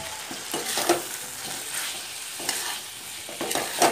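Potatoes and pointed gourd sizzle and fry in a pan while being stirred, with repeated scraping strokes over a steady, fairly loud hiss close by.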